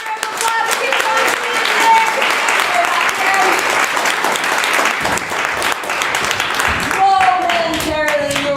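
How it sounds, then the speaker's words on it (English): An improv comedy show audience breaks into sustained applause, dense clapping that stays strong throughout, with brief whoops and a voice over the crowd. "Let's give yourselves a round of applause."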